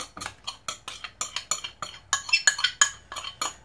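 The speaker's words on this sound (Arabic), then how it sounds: "اذا غادي نخلط دابا انا هذا الشيء" A utensil mixes homemade mayonnaise salad in a bowl with quick, rhythmic clinks and taps, about two strokes per second, sharp and close with bright metallic ringing on some hits.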